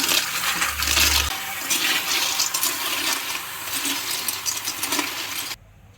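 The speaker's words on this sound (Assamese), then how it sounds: "শামুক দিম।" Snails tipped into a cooking pan of hot oil with onions, a loud splashy clatter and hiss that carries on steadily for several seconds, then cuts off abruptly near the end.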